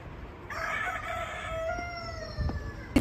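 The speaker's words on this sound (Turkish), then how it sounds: "Burada horoz falan da varmış" A rooster crows one long, drawn-out call at moderate distance over a busy outdoor background in Istanbul.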